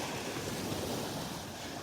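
Small ocean waves wash steadily onto a beach in North Naples, Florida, a soft continuous surf hiss with light wind noise on the microphone and no talking.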